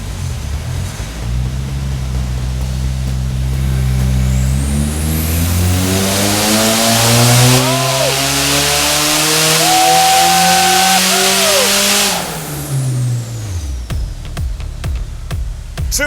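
A turbocharged 2.7-litre 2TR engine in a Toyota Hilux revs hard on a dyno, pitch climbing steadily through a long loud pull before dropping off, then a few short blips at the end.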